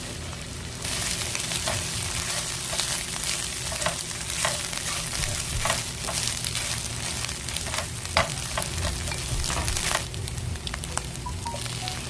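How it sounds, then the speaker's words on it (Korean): Butter, carrot, green onion and egg stir-fry together, a loud continuous sizzle with rapid spatula scrapes and taps against the pan, close up and with no speech. "버터 한 조각, 당근과 파를 넣고 볶고 계란을 팍 볶아주세요."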